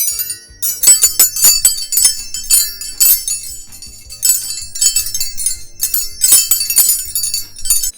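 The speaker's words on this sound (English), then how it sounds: "if I just like literally just bang it, you get a lovely wind chime kind of sound" Metal spanners struck together ring out in bright, chiming clinks like a wind chime, several clustered bursts of metallic jingling with short pauses between, loud and close with no talking.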